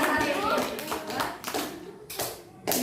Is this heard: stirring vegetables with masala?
no